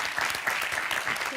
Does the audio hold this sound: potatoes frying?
no